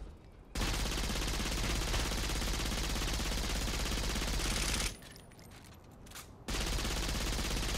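Rapid automatic gunfire in the Saints Row IV video game, a dense, loud, continuous barrage of shots that dips briefly into a thinner patch before the heavy firing returns.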